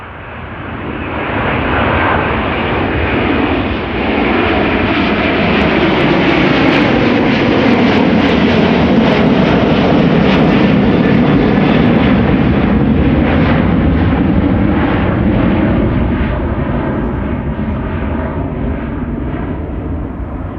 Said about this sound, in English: A330 KLM in the meantime taking off here